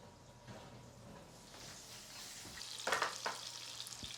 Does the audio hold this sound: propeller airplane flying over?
no